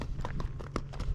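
Hooves of a Spotted Saddle Horse clip-clop in a quick, even rhythm as it gaits in a flat or running walk, close by and fairly loud over a low background rumble.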